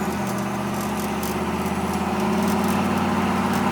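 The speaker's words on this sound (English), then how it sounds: "the truck's got a nice throaty sound to it too" A 1957 Chevrolet 3100 pickup truck engine idles with a steady, throaty low rumble, close and even throughout with no talk over it.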